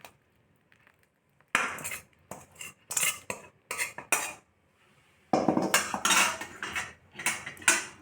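Manathakkali vathal kuzhambu being served into a serving bowl: a metal ladle clinks and scrapes against pots and dishes in several bursts, with quiet pauses between them.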